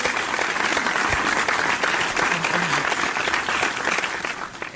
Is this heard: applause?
yes